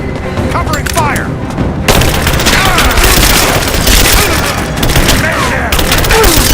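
Heavy gunfire in Rise of the Tomb Raider, loud continuous bursts and booming shots in a firefight, with shouted voices in the mix.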